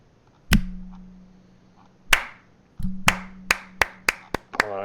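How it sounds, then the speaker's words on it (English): A lone person claps their hands, about eight sharp, close claps, spaced at first and then quicker, over a low steady hum. "I'm clapping."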